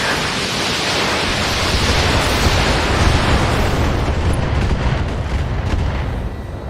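Heavy mech weapons fire in the BattleTech video game, a dense, loud, sustained roar of explosions and rumbling blasts that swells and stays steady for several seconds, with no voices over it.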